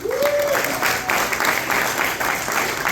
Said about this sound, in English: a huge round of applause for my volunteers